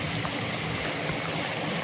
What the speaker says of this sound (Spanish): Vean ustedes cómo está toda la calle inundada y todas las casas también inundadas.